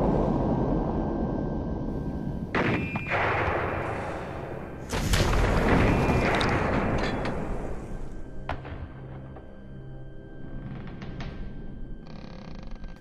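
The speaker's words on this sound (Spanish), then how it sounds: "comenzaron los cañonazos." Cannon fire from the Argentine coast: heavy booming blasts with rumbling, noisy texture, several deep thuds in succession amid a continuous roar, fairly distant.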